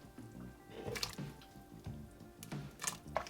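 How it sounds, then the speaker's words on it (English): Shredded chicken dropped back into an Instant Pot of soup, quiet wet plops and squishy splashes arriving in a few soft bursts, close up and faint. "Put your chicken back into the Instant Pot."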